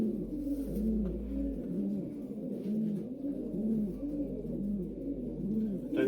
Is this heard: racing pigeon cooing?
yes